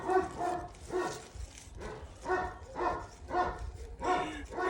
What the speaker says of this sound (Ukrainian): якби собака не гавкала